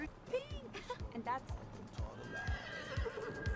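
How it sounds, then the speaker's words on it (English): Horses neigh and whinny while hooves clop in a steady rhythm, a scene from the 2023 Barbie film, heard quietly under a low background with some voices. "What? It's horses now?"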